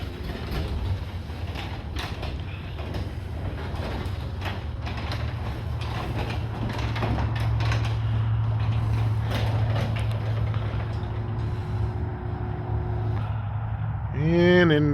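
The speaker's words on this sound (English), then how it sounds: "It's not the fastest door opener I've ever seen." Chamberlain RJO20 direct drive garage door opener running, a steady mechanical hum with creaks and clicks from the moving door panels, which builds in the middle and ends in a louder thump, while a person talks nearby.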